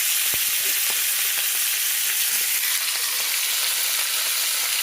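Steak sizzles steadily in a cast iron pan with rosemary and thyme, a dense continuous frying hiss with scattered small pops, close and loud throughout with no talking.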